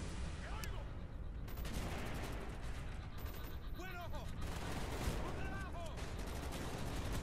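Gunfire in Call of Duty Black Ops: repeated sharp shots and rapid bursts crackle over dense, noisy game combat, with someone talking throughout.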